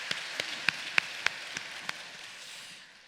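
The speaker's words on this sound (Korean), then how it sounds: "하나님께 영광의 박수 돌립니다." A church congregation giving a short round of applause, several separated claps heard at a distance over a soft hiss, thinning out and fading within a few seconds.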